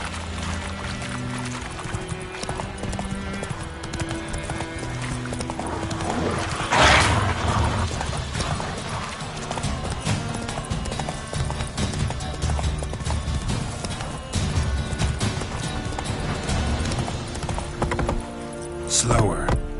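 Horse hooves galloping in The Witcher 3: Wild Hunt on PS5, a steady rhythmic clip-clop under game music and ambience, with a loud whoosh burst partway and voices talking intermittently.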